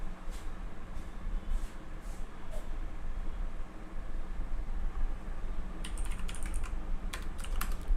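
Fingers type on a computer keyboard in scattered bursts of light clicks, sparse at first and then a quicker flurry near the end, over a steady background hiss.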